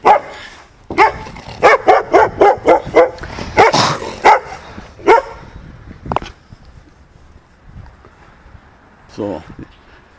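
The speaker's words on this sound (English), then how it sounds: "I'm sorry about that dog." A dog barks repeatedly in a quick run of sharp, loud barks close by, with someone speaking between the barks and afterward.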